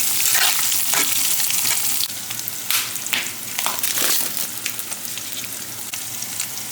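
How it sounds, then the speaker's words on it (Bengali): Two large onions fry in hot oil with bay leaves and dried red chilies, giving a loud, dense sizzle. Scraping and stirring strokes cut through it, and the hiss eases slightly after the first couple of seconds, with no talking. "এবার বড় সাইজে দুটো পেঁয়াজ দিয়ে দিচ্ছি, এগুলোকে ভালোভাবে ভেজে নেব।"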